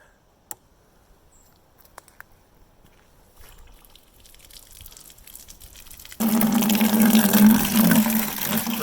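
An emergency well pump switched on in bypass mode, pushing water out through a pipe; quiet at first, then a sudden loud, steady rush of flowing water with a low hum that fills the second part.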